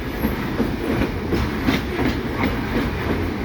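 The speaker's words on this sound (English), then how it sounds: "most trains are slowing down as they go through here, because that's a 1 mile grade down there" Cumberland Mine Railroad train rolling slowly down a mile-long grade, a steady close rumble of wheels on rail with faint soft clicking from the rail joints, loud and continuous, with no one talking.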